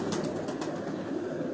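Pigeons softly cooing in a loft, a low murmuring coo under a steady hum of background noise, brief and continuous.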